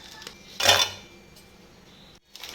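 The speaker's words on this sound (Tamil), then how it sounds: "இப்போ இந்த மிக்ஸி ஜார்ல எல்லாத்தையும் சேர்த்திக்கிறேன்." Oreo biscuits tumble into a mixer jar with one short, bright clatter of hard pieces striking the jar, followed by a quiet pause and a faint rustle at the end.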